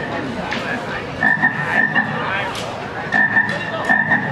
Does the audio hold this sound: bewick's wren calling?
no